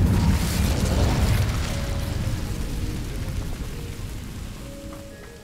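Incendio fire spell cast in Hogwarts Legacy, a loud booming burst of flame that rolls out and slowly fades over several seconds, with a faint crackling tail.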